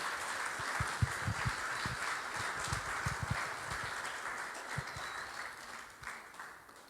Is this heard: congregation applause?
yes